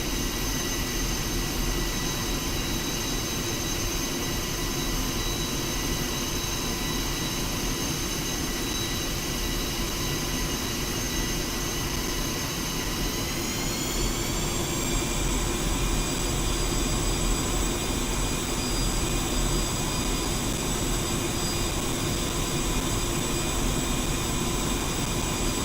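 A jet aircraft taxis in the DCS World flight game, its engine giving a continuous whining roar with steady high tones that rise slightly midway, loud and unbroken throughout.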